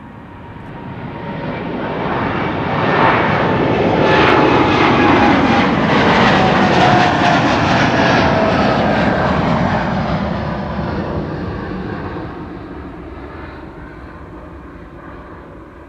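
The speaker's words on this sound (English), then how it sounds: "TUI Flight 821 to Cancun in Mexico. 11-year-old 7878 Dreamliner." A TUI Boeing 787-8 Dreamliner, eleven years old, departing Amsterdam Schiphol for Cancun on a sunny day, its engine roar building, peaking loud in the middle, then fading slowly as it climbs away.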